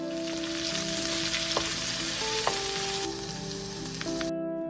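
Ginger, green onions and curry leaves (with garlic) sizzle steadily in hot oil, a loud continuous frying hiss with faint utensil clicks, cutting off abruptly near the end.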